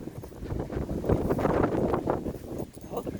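Strong wind gusts outdoors on a dog walk, a continuous loud broadband rush that swells and surges through the clip with no talking.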